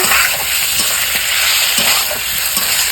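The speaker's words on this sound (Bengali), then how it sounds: "মাংস রান্না হচ্ছে" Meat frying and being stirred in a pan for a home-cooked Bengali meal, a steady loud sizzle broken by regular scraping strokes of a spatula, close up with no talking.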